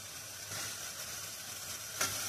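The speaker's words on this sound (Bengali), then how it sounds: "আলুগুলো একটু কষাই নেবো মশলার সাথে" Potatoes sizzle with spices in a hot pan for a Bengali dish, giving a steady, close frying hiss with a brief stirring scrape near the end.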